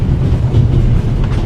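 A train runs steadily on its rails with a loud, continuous rumble and faint rhythmic clickety-clack, heard close and alone.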